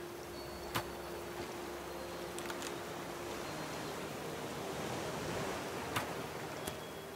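Ocean waves in the survival game Raft give a faint, steady wash of surf around a floating raft, with a few soft clicks on top and no talking.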